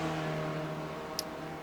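An SRF race car engine at Summit Point in the iRacing game, a steady droning hum held at constant pitch and close.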